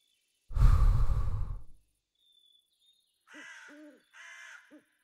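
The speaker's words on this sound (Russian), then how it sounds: "Реально сова тут летает, что ли?" An owl in modded Minecraft gives two short, hollow hoots a moment apart, following a loud breathy whoosh and a pause of near silence, with no talking over it.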